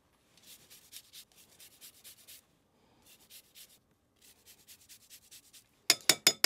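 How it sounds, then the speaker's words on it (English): A lemon is zested for a pudding cake batter, quick soft rasping strokes in short bursts with pauses, faint at first, then a few louder scrapes at the end. "Now I need to zest in this lemon."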